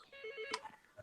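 A telephone rings briefly with a tonal electronic ring, a single short burst that fades quickly, with no talking over it.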